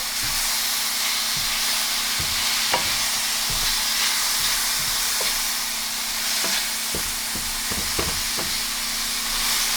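Minced onion with salt and pepper fries in a non-stick pan over lowered heat, giving a steady close sizzle and hiss broken by regular soft scrapes of stirring, with no voices.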